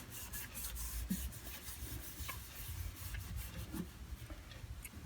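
Soft, continuous rubbing and scrubbing close up as grime is cleaned off an old Sunbeam Drillmaster electric drill, a quiet rhythmic rasp with faint clicks.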